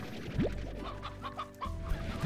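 Chickens cluck in the video game Slime Rancher, a few short clucks and squawks near and fairly loud, separated by a brief pause, with no talking over them.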